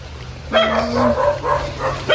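A hairless dog at a family home gives a few sharp, close barks and yips in quick succession over a low background hum.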